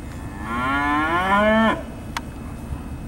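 A single long moo from an Angus steer at a cattle sale, rising and harmonic-rich, lasting about a second and a half, then quiet with a faint click.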